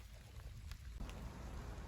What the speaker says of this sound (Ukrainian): Дощ іде, потрошки гримить.